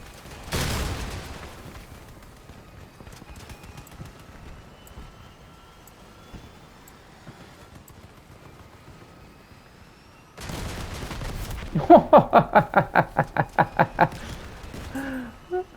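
Vehicle-mounted gun firing in the combat game Crossout: an early blast, a long quiet stretch, then a rapid string of about eight sharp, evenly spaced loud shots over engine rumble.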